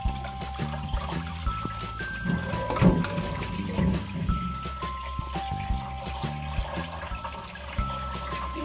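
Running water rinses chicken blood during street-food prep, a continuous trickling and splashing stream with light background music tones running underneath.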